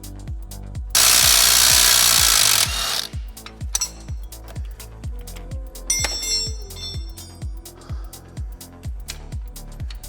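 A ratchet wrench clicks in a steady, rapid rhythm while loosening crusty bolts on a VW Passat B4, close up and loud, with a brief burst of hissing noise near the start and a few metallic clinks.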